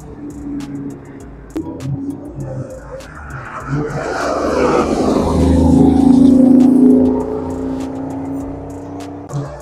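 Sports cars, including a Porsche GT3 RS and a loud Mini, roar past at an ACO club gathering, engine note swelling as one approaches close by and then fading away.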